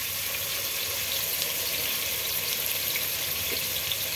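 Roughly chopped onion, green chillies and ginger-garlic paste frying in oil for Hyderabadi chicken tahari, giving a constant close sizzle with no talking.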